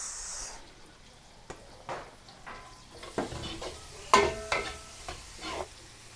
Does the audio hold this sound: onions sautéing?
yes